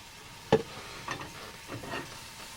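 A spoon stirring cream into eggs in a hot pan, a sharp scrape followed by softer scraping strokes over a faint sizzle, quiet and close.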